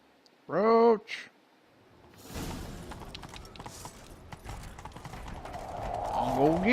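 Horse hooves clip-clopping and picking up pace in The Witcher 3: Wild Hunt, a rhythmic gallop building under game ambience after a brief whinny-like vocal burst, with voices heard.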